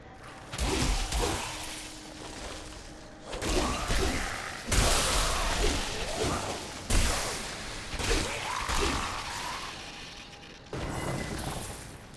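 Explosions in the action RPG Diablo 3 during monk gameplay, heard as a series of loud broadband bursts and crashes that come every second or two, repeating throughout over busy game noise.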